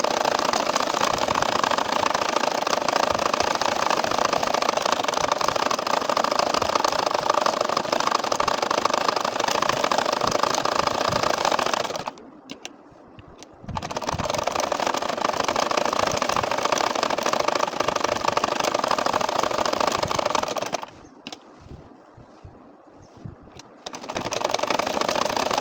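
An ordinary domestic sewing machine stitches a champa-flower nakshi kantha quilt, running in a steady, close, continuous whir that stops twice for a second or two before starting again.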